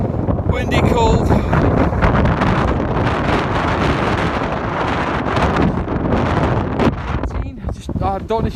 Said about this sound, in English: The wind is absolutely mental up here